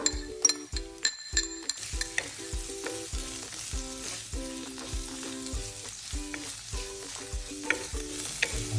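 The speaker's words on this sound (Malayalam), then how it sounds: "ഇതിലേക്ക് ഒരു ഉള്ളി ചെറുതാക്കി കട്ട് ചെയ്ത് വെച്ചതും കൂടി ഇട്ട് കൊടുത്തിട്ട് വയറ്റിയെടുക്കുക" Chopped onion sautéed with garlic and curry leaves in a pan, with a steady sizzle under repeated rhythmic scraping and clanking strokes of a spoon stirring, close up with no talking.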